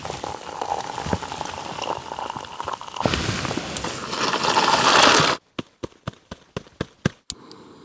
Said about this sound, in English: 300 milliliters of boiling water.